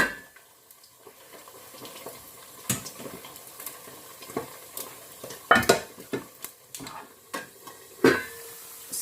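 Pork belly for sisig crackles and sizzles in a pan as it browns, with scattered loud metallic scrapes and clanks of a utensil over a low frying hiss, close and without talk.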